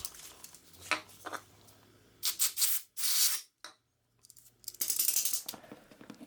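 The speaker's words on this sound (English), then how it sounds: "I clean out the bracket with some brake clean" Brake cleaner sprayed into a worn garage door roller bracket, heard as bursts of hissing spray and rubbing with short pauses between, plus light metallic rattles and knocks, fairly close and moderately loud.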